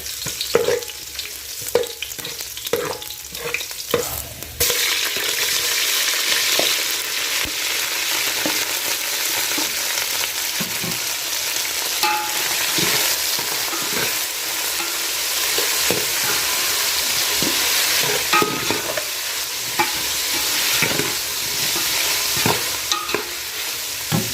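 Ginger and garlic frying in hot oil in a pan, a steady loud sizzle with the clatter of a spatula stirring and scraping throughout, no voices.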